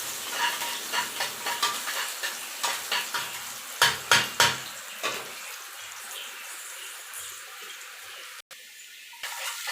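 Onions and curry leaves sautéing in oil for a restaurant-style mutton gravy, with a run of rhythmic scraping stirs over a steady sizzle that then settles into a quieter, even hiss, close by and with no talking.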